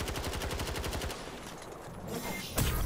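Rapid automatic gunfire from Battlefield 2042 rattles in a tight, evenly spaced burst of loud shots for about a second, then a lull of lingering echo before another sharp shot lands at the end.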